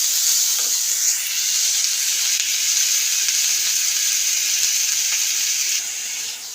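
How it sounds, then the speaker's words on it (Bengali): Mixed vegetables frying in oil for vegetable daliya, a steady close sizzle with bright hiss throughout and faint stirring scrapes, easing slightly at the very end; no talking. "তো একটু ভাজা হোক এটা।"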